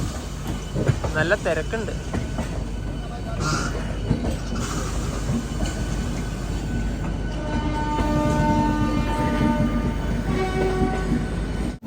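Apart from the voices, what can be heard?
Kolkata local train running, horn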